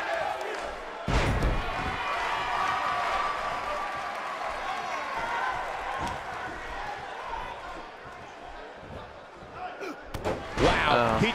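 A body slam in the WWE 2K18 wrestling video game lands as a heavy thud over a loud, steady arena crowd roar, and a second impact comes near the end.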